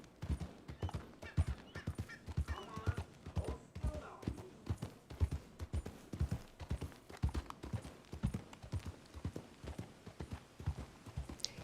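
Horse hooves clip-clopping steadily on the ground in the Red Dead Redemption 2 video game, a continuous rhythmic gait with a brief whinny, faint and close, with some talk over it.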